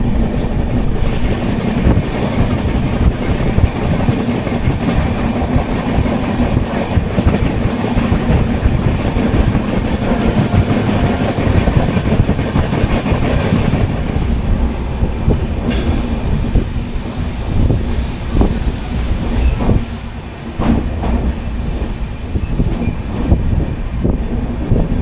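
The Darjeeling Mail passenger train running on the tracks near NJP station, a loud, continuous rumble of carriages with rhythmic wheel clatter and occasional metallic squeal, heard up close for the whole stretch without talk.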